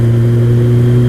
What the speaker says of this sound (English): it has a Acropovic slip-on, so it has quite a good sound, especially when you get a few revs underneath it